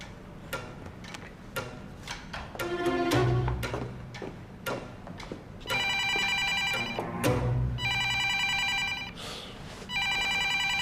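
A telephone rings in an indoor drama scene, its bright electronic ring coming in repeated bursts in the second half after a run of sharp ticking clicks and low thuds, with no talking.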